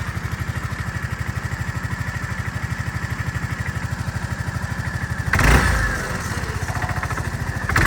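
A Honda Forza MF-08 250cc fuel-injected scooter engine idles with a steady, quiet, even pulse, close by, with a brief louder burst of noise partway through.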